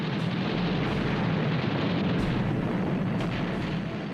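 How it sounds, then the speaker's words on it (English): A bomb explodes deep inside a World War II carrier after piercing four decks, heard as a sustained, loud rumbling roar that fills the whole stretch without letting up. "But then she took a bomb which penetrated 4 decks before exploding."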